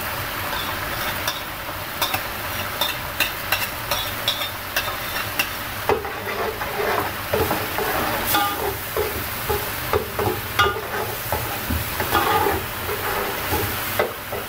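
Tomato paste and masala fry in oil for chicken korma, a steady sizzle with repeated scraping stirs of a spoon against the pan, close and fairly loud with no talking.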